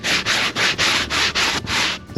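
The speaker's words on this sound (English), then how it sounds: "The scrub brush is going to work on this one because it's not particularly well adhered." A stiff scrub brush rasps over the old, loosely attached foam of a car headliner in seven quick, even back-and-forth strokes, loud and close, with no talking.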